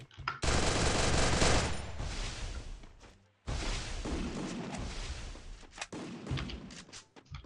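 Gunfire in the mobile shooter Free Fire, two long bursts of loud rapid automatic fire separated by a short gap, followed by a few scattered sharper shots.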